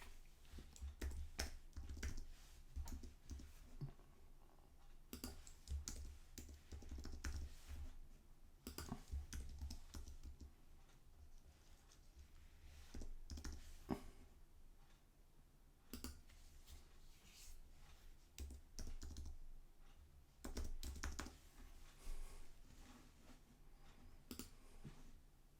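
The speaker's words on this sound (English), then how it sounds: "Type in our question." Computer keyboard typing, quiet irregular clicking keystrokes in short bursts separated by pauses, faint and close with no talking.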